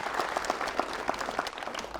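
A studio audience at a televised debate on migrants claps in a short, moderately loud burst, individual hand claps standing out against a low hum.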